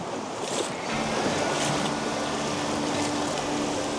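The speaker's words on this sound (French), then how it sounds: "on est au milieu de la rivière, il y a les courants" Flowing currents in the middle of a wild river in Lapland, a steady, rushing wash of water heard close, with a faint wind-like hiss throughout and no talking.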